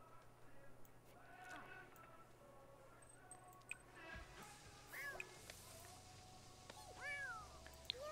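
Cat meows from The Sims 4 life-simulation game, several short rising-falling calls spread across the stretch, moderately faint over a steady low game hum with no talk.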